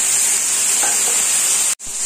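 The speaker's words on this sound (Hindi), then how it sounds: "पपीता को मसाले के साथ फ्राई करेंगे।" Steady, loud sizzling of papaya frying with spices in a pan, a constant hiss that cuts off briefly near the end.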